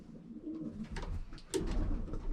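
Pigeons coo over and over inside a breeding loft, soft throaty calls layered at close range over a steady background murmur, with a louder burst near the end.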